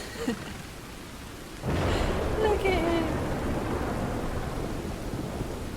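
Rain pours steadily with a rolling rumble of thunder in the Red Dead Redemption 2 game world, the downpour swelling suddenly and continuing loud while a person speaks briefly over it.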